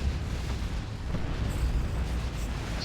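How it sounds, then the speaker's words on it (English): Explosions in the real-time strategy game Dawn of War 2, with Ork bombers blasting units during a 3v3 match, heard as a dense low rumbling barrage of booms at moderate level, with no talking. "Explosions"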